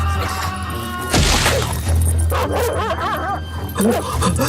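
A large black dog barks and snarls in an attack sound effect for a Filipino aswang horror audio drama, with loud barks and growls over a low rumbling music bed.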